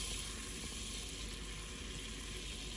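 Butter melts in a pan for a roux, giving a soft, steady sizzle and faint bubbling that stays constant and close throughout the short stretch, with no talking.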